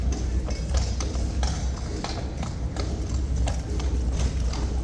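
Horse hooves clip-clop steadily in a video game stable, a continuous run of close, even hoofbeats over a low rumbling background, with no voices.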